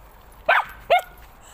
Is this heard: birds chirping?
no